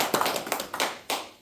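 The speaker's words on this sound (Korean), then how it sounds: "오늘 후보 연설회를 큰 박수로 시작하겠습니다" A small audience gives a short round of applause at a union election candidate rally held indoors. A handful of distinct claps sound close and uneven, then fade out.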